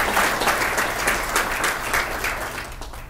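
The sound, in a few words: audience applause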